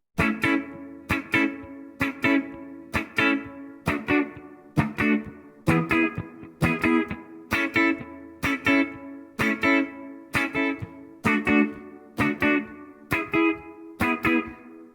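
Short, choppy electric guitar chord stabs in reggae style repeating in a tight offbeat rhythm, each chord muted quickly after it sounds, steady throughout.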